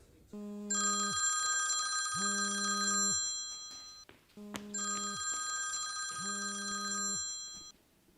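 A telephone rings in two long electronic bursts separated by a short pause, loud and close, with no talk over it.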